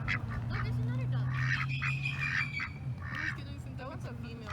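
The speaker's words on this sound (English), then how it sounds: "Look, there's another duck." Ducks at a park pond give repeated nearby quacks and honking calls over a steady low hum, with people talking.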